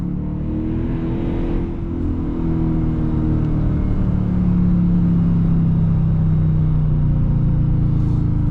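A Dodge Challenger R/T with a six-speed manual pulls hard in second gear, its engine note rising steadily and loudly in a continuous cabin-heard drone throughout.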